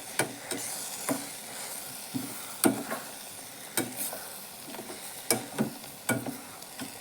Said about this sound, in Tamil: சேர்த்து நல்லா வதக்கிக்கோங்க.